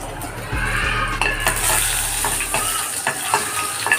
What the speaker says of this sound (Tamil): பேன் அடுப்பில் வச்சுட்டு கடுகு போட்டுக்கோங்க, ஜீரகம் போட்டுக்கோங்க, வெந்தயம் போட்டுக்கோங்க, ஒரு காஞ்ச மிளகாய் போட்டுருங்க, கருவேப்பிலை போட்டுருங்க